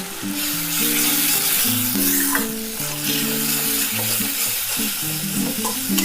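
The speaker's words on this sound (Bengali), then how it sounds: "এক চামচ হলুদ গুঁড়ো আর স্বাদ মতো লবণ সমস্তটা দিয়ে আমি ভালো মতো মশলাটাকে কষে নেব" Spice paste with Kashmiri chili powder, turmeric and salt frying in a pan for a Bengali crab curry gives a loud, continuous sizzle with stirring noises, heard over steady background music.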